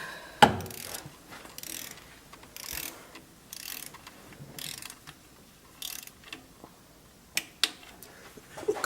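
Ratchet clicking as it turns a valve cover nut on a Toyota 2.4 engine, quiet short bursts of rapid clicks with sharper knocks between them, close up.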